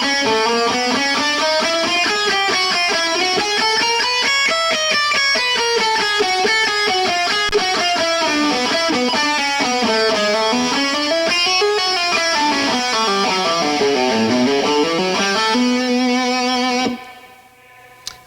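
Slow electric guitar riff with chromatic runs, blues-scale phrases and pull-offs through distortion, a continuous sustained line winding up and down for most of the stretch before cutting off near the end, loud and alone.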